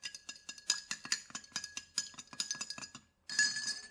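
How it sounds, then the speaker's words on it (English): A spoon rapidly stirs Jell-O shot mixture in a glass container, giving a quick run of bright clinks and taps against the glass, close and fairly quiet, with a brief pause before a final burst. "Give this a good stir."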